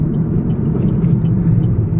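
Steady low road and tire rumble inside a 2012 Camaro SS RS with a six-speed manual, a continuous droning roar holding even and fairly loud with no voices.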